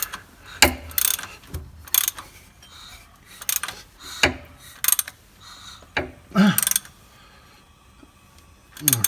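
A ratchet wrench turns the crankshaft of a Mazda MX5 engine during a timing belt change, giving several loud, close bursts of rapid clicking separated by short pauses.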